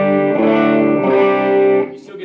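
Electric guitar played through an amplifier with added drive, holding thick distorted sustained notes with rich harmonics for about two seconds before cutting off into a brief quieter tail.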